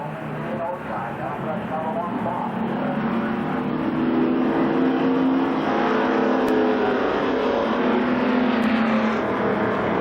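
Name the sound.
race cars passing on a speedway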